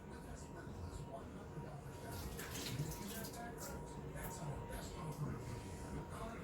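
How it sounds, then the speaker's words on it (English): Hands rinsed under a running kitchen tap while making keto fathead pepperoni pizza dough, a steady close splashing stream with small irregular spatters throughout. "I'm just going to go run my hands under water"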